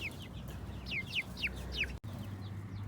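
Farm chickens cluck in a short series of sharp, chirpy calls close by over a low background rumble, about five distinct clucks in quick succession.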